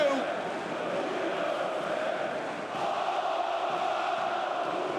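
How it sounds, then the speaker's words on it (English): Basketball crowd in Belgrade's Aleksandar Nikolić Hall at a Crvena zvezda versus Fenerbahce game, a dense, steady roar of cheering filling the arena, loud and sustained throughout with a brief dip midway. "he sends the crowd into raptures here in the Alexander Nikolic Hall"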